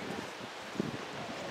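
Soft wind buffets the microphone in a low, steady rumble at the Sundial Bridge in Redding, California, with a faint rustle and one brief thump partway through.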